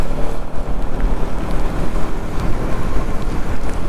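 Rain falling during a monsoon ride, a steady dense wash of drops with a continuous rumbling undertone, loud and close throughout with no pauses.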